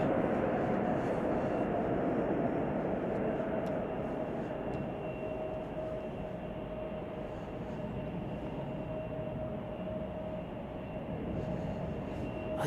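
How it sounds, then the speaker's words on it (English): A Turkish Airlines airliner on Flight 5 from Istanbul, arriving at Chicago O'Hare, gives a steady, loud engine roar with a faint whine that holds evenly throughout, with no voices over it. "This is Turkish Airlines Flight 5 from Istanbul"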